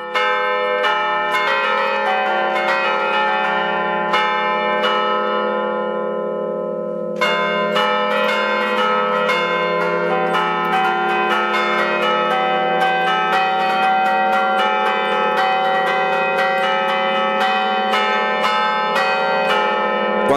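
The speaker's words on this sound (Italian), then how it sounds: "Una sinfonia che mi sta prendendo per 5 campane in questo momento è una suonata bergamasca che si chiama Marcia di Grumello." Five church bells ring out a Bergamasque march, the Marcia di Grumello, in loud, close, overlapping strokes with a rich sustained hum, pausing briefly before the peal resumes at full strength.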